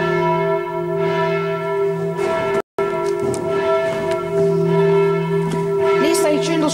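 Church bells of Saint Maurice church in Boujailles ringing loudly and close, a sustained overlapping peal with strong ringing tones that continues steadily, with a brief dropout partway through.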